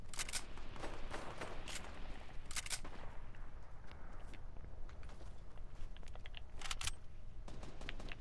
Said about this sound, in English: Shots from our south.